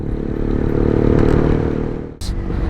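A Yezdi Roadking motorcycle rumbles steadily with a dense, close engine drone, dipping briefly near the end before resuming.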